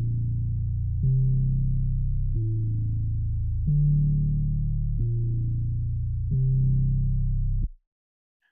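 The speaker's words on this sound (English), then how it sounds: "I'm using another retro synth, the default patch, and then I arpeggiated it using the arpeggiator that comes with Logic." Default-patch Logic Retro Synth arpeggiated by the built-in arpeggiator for a kizomba/kompa/zouk beat, with lower notes doubled in, plays a steady repeating bass-heavy pattern of sustained note groups, loud and alone before cutting off abruptly.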